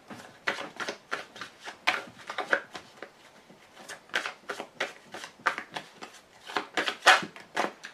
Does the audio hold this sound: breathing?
no